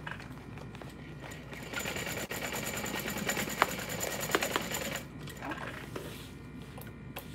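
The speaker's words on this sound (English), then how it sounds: "So I'm just opening up that seam, sewing it from the other side, so that I know nothing shifts." A sewing machine stitches a fabric seam on a bowler bag, a soft mechanical whir that runs for several seconds with faint handling noises and a few sharp clicks near the end, quiet and close.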